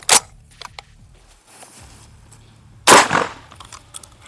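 Two loud shotgun blasts fired with a red 3T cartridge, one at the start and one near the end, sharp and close outdoors with a faint background hum between them.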